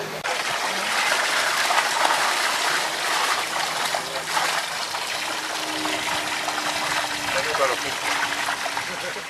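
Spring water flows at the source of the Rambla de la Sal on the way to Salinetes, a steady broadband rush and trickle that holds an even level throughout, with faint voices and low tones underneath.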